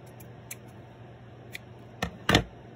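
Scissors snipping paper for a stuffed pocket shaker card: a few faint small snips, then two louder, close cuts near the end in a quiet room.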